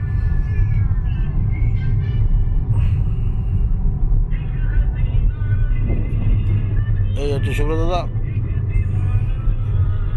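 A car cruises along a road on a trip out of Kolkata toward Mandarmani, its cabin filled with a constant low engine and tyre rumble while someone talks over it.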